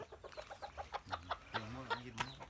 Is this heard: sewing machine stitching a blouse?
no